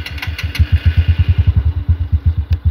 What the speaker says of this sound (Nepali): हाम्रो सेल्फले पनि काम गरिसकेको छ